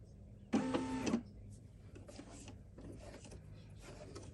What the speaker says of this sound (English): it will automatically move the frame around to show you your area that it's going to be embroidered